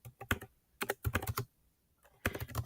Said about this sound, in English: So I'm going to type this as